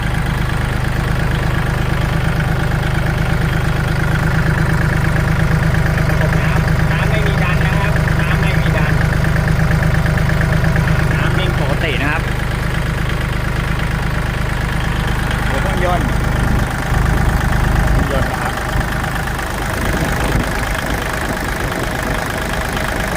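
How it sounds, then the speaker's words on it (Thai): A Kubota L3608SP tractor engine idles steadily and loudly throughout, with a low continuous drone, someone talking over it and some clanking near the end. "เครื่องยนต์ดีไม่มีไอระบายนะครับ"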